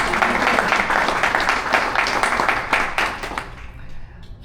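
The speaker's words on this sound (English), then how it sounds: "So let's give a clap to Prabhupada." Lecture audience clapping for Prabhupada, a steady round of mixed handclaps lasting a few seconds and then fading out, with some voices faintly under it.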